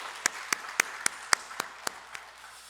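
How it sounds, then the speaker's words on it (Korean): A church congregation at a Korean Sunday afternoon worship service claps in unison: about eight crisp, evenly spaced claps in a steady beat, fairly soft and slightly distant, with no talking over them. "우리 1, 2 여전도회 우리 감사의 박수를 한번 드리도록 하겠습니다"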